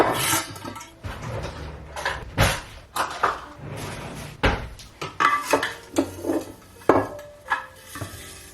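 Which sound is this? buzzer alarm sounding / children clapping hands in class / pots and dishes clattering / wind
pots and dishes clattering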